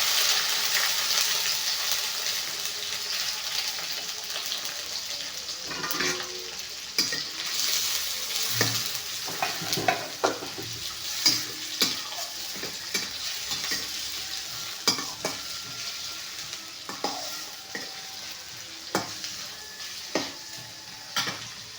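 Onions and curry leaves frying and being stirred in a pan after ginger-garlic paste: a constant close, loud sizzle broken by repeated sharp scraping and clinking strokes of a spoon against the pan.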